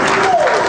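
Brief burst of cheering and applause, a dense wash of clapping and crowd noise lasting under a second.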